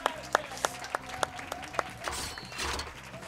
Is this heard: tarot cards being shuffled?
no